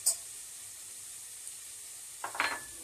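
Two onions sautéing in a little oil in a pot, giving off a faint, steady sizzling hiss, with a brief stir or clatter at the start and a short clink near the end.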